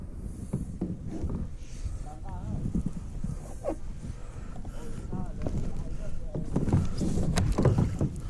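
Kayak paddled on water, irregular splashes and knocks of the paddle near the microphone, with people talking throughout.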